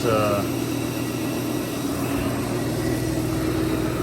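A buffer motor spins at about 1400 RPM, a smooth steady hum with a constant whir and faint tonal whine, running evenly at close range throughout.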